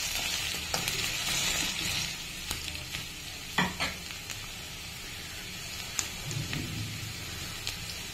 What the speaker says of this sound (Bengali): আলুটা একটু লাল হয়ে ভাজা হলো